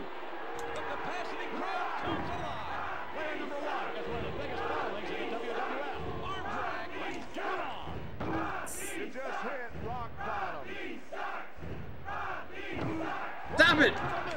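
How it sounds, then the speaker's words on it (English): Arena crowd roaring and cheering in the WWF War Zone wrestling video game, a steady loud wall of crowd noise with recurring thuds and a brief sharp burst near the end. "The capacity crowd comes alive."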